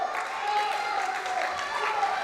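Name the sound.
wrestling crowd applauding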